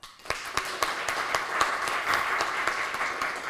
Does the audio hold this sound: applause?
yes